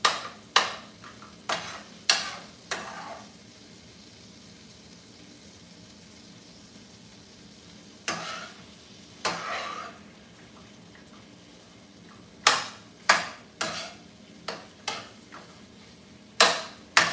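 Meat in chunks cooking in a pan, with a soft ongoing sizzle beneath repeated loud scraping and clattering stirring strokes that come in clusters separated by quieter stretches.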